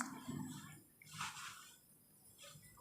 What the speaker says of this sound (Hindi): पानी भर दिए